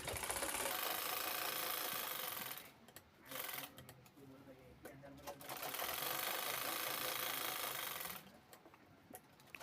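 Domestic sewing machine stitching a zip onto the inner pocket of a cloth bag made from blouse fabric, running in steady close bursts with short pauses between runs.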